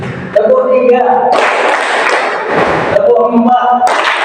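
A class claps a counted rhythm pattern: voices chant in unison, then a loud stretch of many hands clapping together, more chanting, and another burst of group clapping at the end.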